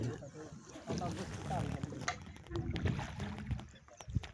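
A boat moves on the Ghaggar river with irregular sloshing and splashing of water, wind buffeting the microphone, and a voice talking faintly beneath.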